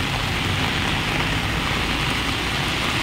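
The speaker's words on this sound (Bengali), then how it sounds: "দেখতে পাচ্ছেন কী পরিমাণে বৃষ্টি হচ্ছে" Heavy rain pours steadily in Kharagpur, a loud, dense, unbroken hiss of drops hitting surfaces with no pauses and no voices.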